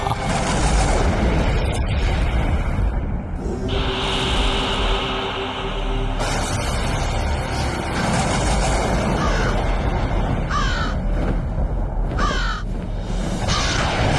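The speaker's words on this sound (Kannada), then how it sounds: "ಇಷ್ಟು ದೊಡ್ಡದಾದ ಕಾಗೆ ಅರಮನೆಯತ್ತ ಏಕೆ ಹೋಗುತ್ತಿದೆ?" A crow caws loudly and repeatedly in harsh bursts over a busy, rumbling background of traffic-like noise, with the calls spread through the whole stretch.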